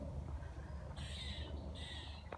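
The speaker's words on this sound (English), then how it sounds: "let you listen to the birds again" Birds call along the Tame Valley Canal, with two short bursts of crow-like cries at middle distance over a low, steady outdoor rumble.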